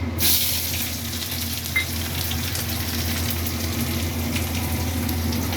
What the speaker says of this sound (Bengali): শাক ভাজার জন্য কড়াতে সর্ষের তেল দিয়েছি, শুকনো লঙ্কা দিয়েছি, দিয়ে রসুন আর পেঁয়াজ